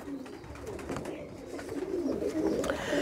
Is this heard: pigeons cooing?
yes